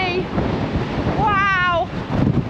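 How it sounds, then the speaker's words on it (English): Strong wind buffets the microphone in a loud, rushing roar on a hiking trail in Denmark, with a voice rising and falling briefly partway through. "My gosh, it's bloody windy!"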